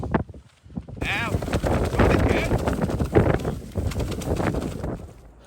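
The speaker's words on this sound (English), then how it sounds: "Might have to do subtitles because of the wind" Strong moorland wind buffeting the microphone with loud, gusty rumbling that swells and drops, while someone talks over it in the open air.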